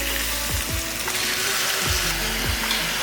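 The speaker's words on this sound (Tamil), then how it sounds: "இந்த சிக்கனை போட்டு நல்லா வதக்கிடுங்க." Chicken pieces sauté in a pan, a continuous hiss of frying with a few scraping stir strokes at intervals, close and moderately loud, no voices.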